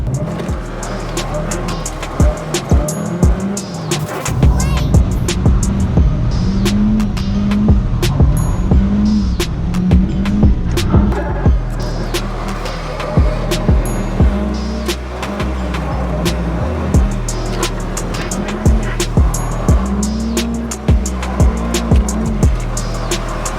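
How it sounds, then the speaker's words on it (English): A car drifts under full throttle, its engine revving in repeated rising surges with tire squeal and clatter throughout, loud and close, with occasional voices in the cabin. "I'm flooring it and it's not going nowhere."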